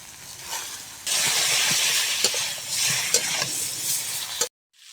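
Eggplant frying in hot oil gives a steady, bright sizzle that swells loudly after a quieter start, with a few small pops and stirring clicks, then cuts off abruptly near the end, with no talk.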